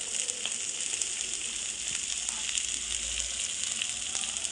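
Pearl spot fish frying in hot oil, a continuous close sizzle and hiss with no pauses.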